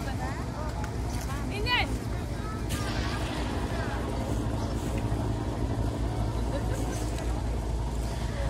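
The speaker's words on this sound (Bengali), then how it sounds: "আমরা যে লঞ্চে আসছি ওই লঞ্চটা চলে যাচ্ছে এখন।" A passenger launch departing on the water at Shuvolong, Rangamati, heard as a steady low engine drone and water rush with wind buffeting the microphone, while a person talks throughout.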